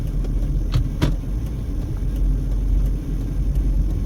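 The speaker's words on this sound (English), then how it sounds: "There's a whole lot of cross traffic here" Cross traffic at a busy intersection of Buffalo Drive and Washington Avenue in West Las Vegas, with cars whooshing past in succession over a steady road rumble, heard from inside a waiting vehicle.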